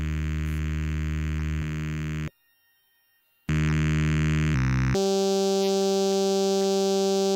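Eurorack modular synth drone rich in stacked harmonics, sustained and steady with a brief dropout to silence before it returns and shifts to a brighter, higher timbre; no voices.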